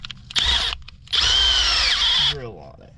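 A power drill with an oiled bit bores into an engine block through a thread repair jig on a 3.6 Pentastar, a short whine, a pause, then a longer steady high drilling run that winds down.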